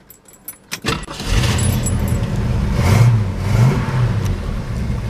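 A 1969 Ford Mustang Mach 1 with dual exhaust, four chrome tips and tame mufflers cranks and catches, then settles into a deep, loud, rumbling idle with slight revs, preceded by a brief jangle of keys.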